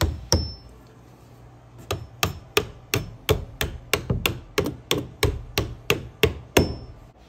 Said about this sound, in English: tap them back down with a hammer